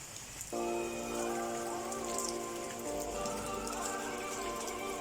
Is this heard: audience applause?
no